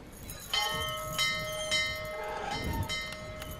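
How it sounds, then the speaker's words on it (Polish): A small hanging bell rings in the video game Syberia, struck about five times in an uneven rhythm, each chime sustaining with a bright metallic ring that overlaps the next. "A jak tutaj przywiesimy teraz ten dzwonek"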